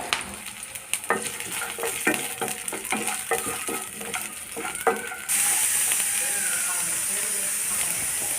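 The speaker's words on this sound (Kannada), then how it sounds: "ಈರುಳ್ಳಿ ಬೆಳ್ಳುಳ್ಳಿ ಮತ್ತು ಮೆಣಸಿನಕಾಯಿಯನ್ನು ಸ್ವಲ್ಪ ಎಣ್ಣೆ ಹಾಕಿ ಲೈಟಾಗಿ ಫ್ರೈ ಮಾಡಿ ತಗೊಂಡ್ರೆ ಟೇಸ್ಟ್ ತುಂಬ ಚೆನ್ನಾಗಿ ಬರುತ್ತೆ" Chopped onion, garlic and green chillies fry in a little oil for a cashew masala, hissing steadily while a spoon scrapes the pan in quick, rhythmic strokes; the sizzle swells louder toward the end.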